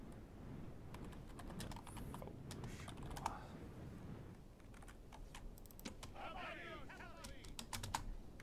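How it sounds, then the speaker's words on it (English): Rapid clicking from a computer keyboard and mouse on a desk, picked up by a nearby non-headset microphone during an online strategy game session. The keystrokes come in quiet, irregular bursts over a low background hum. "my keyboard and mouse and all are probably really loud because I have a new mic and it's not a headset"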